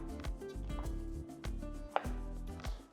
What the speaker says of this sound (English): So the tomatoes, I am going to just cut them on slices, like this.